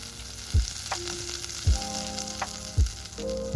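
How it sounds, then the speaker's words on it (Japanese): Butter melts in a pan over heat, sizzling and crackling steadily on its own, with a few soft clinks or taps against the pan. "今使うバターと後で使うバター全部一緒くたに溶かしております"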